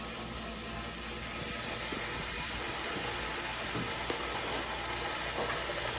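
Garlic and onions cook in a pan with sausage rendering its fat, giving a steady broadband sizzling hiss that continues evenly at close range.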